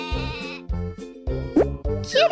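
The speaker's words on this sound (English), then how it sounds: "Sheep. Sheep." Several short wavering sheep bleats, one after another with brief gaps, close and clear.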